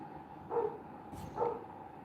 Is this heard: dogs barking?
yes